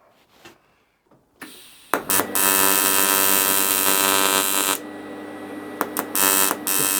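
An arc welder works on an aluminium alloy Range Rover step, a harsh, loud buzzing crackle that starts after a few faint clicks, holds steadily for several seconds, then breaks into short bursts.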